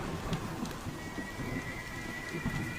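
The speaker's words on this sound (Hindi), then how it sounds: "तेज तूफान और मूसलाधार बारिश से पूरा वातावरण भयावह हो चुका था।" Heavy rain pours steadily throughout, with low rumbling thunder rolling beneath the downpour.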